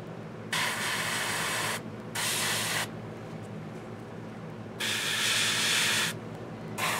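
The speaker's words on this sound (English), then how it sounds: "So I thought I'd show some airbrushing" Airbrush spraying paint for skin tones on a Reaper hill giant miniature: three sustained bursts of airy hiss, each a second or more long, with a steady low background hum between them.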